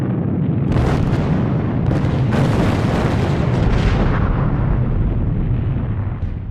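Bombs exploding aboard the aircraft carrier USS Enterprise in wartime: loud, deep rumbling blasts rolling into one another in a continuous barrage, with several sharper bursts cutting through the roar.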